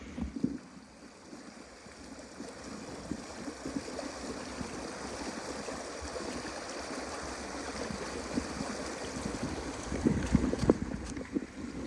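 Fast-flowing stream rushing under a small bridge at an Alaskan spring, a steady gurgling wash that swells slightly toward the end, alone with no voices.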